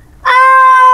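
A single sustained meow-like cry starts suddenly and holds loud and steady, a human voice imitating a cat.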